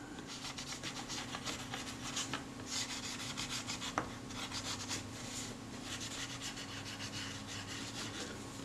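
Abrasive rubbing on a Kodak Retinette type 022 camera part, taking the roughness off the surface and wearing through its black finish. The dry rasping strokes repeat steadily and close up, with no talk.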